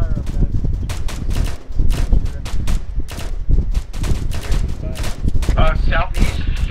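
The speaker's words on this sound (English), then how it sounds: "That building that everyone's firing on right now?" Dense gunfire rattles through an Arma 3 town assault, with rapid rifle shots and bursts of machine-gun fire cracking close and far in an irregular stream while players talk over radio.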